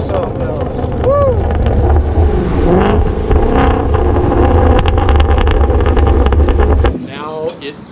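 A Hennessey-supercharged Ford Mustang GT350 with a flat-plane crank V8, around 850 horsepower, screams loudly under hard acceleration with rising engine pitch and wind rush, then drops off to burbles as the throttle lifts, with a voice heard amid the noise.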